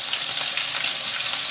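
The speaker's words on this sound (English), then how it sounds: "Just dust off the chicken into the frying pan" Flour-dusted chicken fries in a pan with a steady, bright, continuous sizzle, close and unbroken, with no voices.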